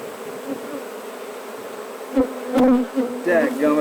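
A bee buzzes close by, its drone rising and falling as it moves, with a few louder bursts near the end.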